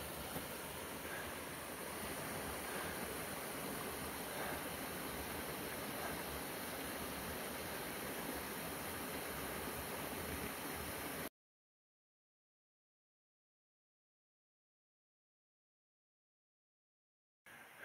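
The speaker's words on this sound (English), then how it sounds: "Waterfall goes down there." Steady, dense rushing of a waterfall along the Appalachian Trail fills the first eleven seconds, broad and constant, then cuts to silence before a brief return at the end.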